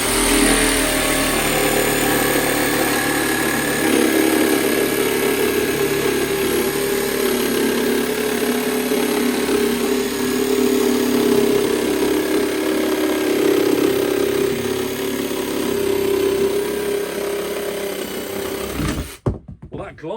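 Parkside jigsaw making curved cuts in MDF, a loud continuous buzzing whine held steadily for nearly the whole stretch before stopping abruptly at the end.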